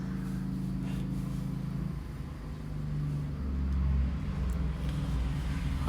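A car being parked in a multi-storey car park, its engine a low steady hum heard from inside the cabin, swelling slightly as it moves at slow speed, with no talk.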